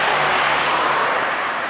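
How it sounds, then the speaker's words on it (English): An old Citroen car engine gives a close, loud, steady broadband roar for under two seconds, unbroken and without voices. "It's an old Citroen."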